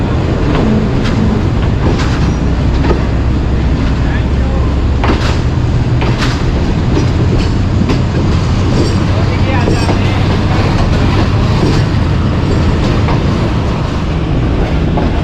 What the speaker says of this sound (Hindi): तो जी दोस्तों ट्रेन जो है वो आगे आगे आहिस्ता बढ़ रही है।